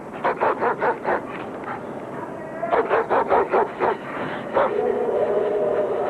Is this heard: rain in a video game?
no